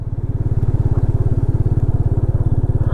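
A motorcycle engine idles close by on a ride along the Odisha coast, a loud, even, rapid putter of regular pulses that holds steady throughout.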